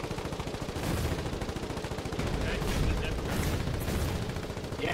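Rapid gunfire from a boat firing on enemy gunboats in the war game Foxhole: dense, continuous automatic bursts, moderately distant, under steady engine and water noise.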